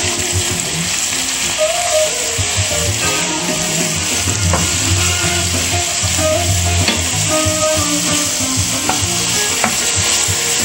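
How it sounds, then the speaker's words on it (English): Country style ribs sear in a hot pan with a loud, continuous sizzle and crackle, with occasional sharp pops and light stirring scrapes over a steady hiss. "So what we're going to do is that we're going to just sear these a bit."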